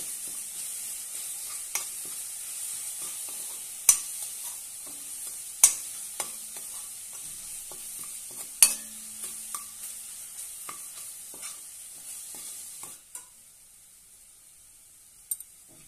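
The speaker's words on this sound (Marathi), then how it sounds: "आणि चवीनुसार मीठ आणि छानपैकी तेलामध्ये परतून घेऊया" Green chillies sautéing in oil with salt and red chilli powder, a steady close sizzle punctuated by sharp stirring clicks and scrapes of a spoon against the pan, quieting near the end.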